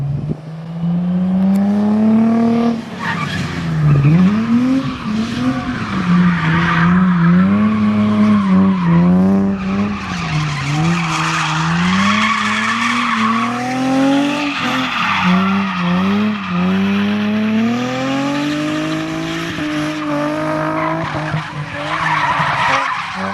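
A drift car skids through a long slide, its tires squealing in a loud, wavering howl over a straining engine that rises and falls in pitch for over twenty seconds, close and continuous.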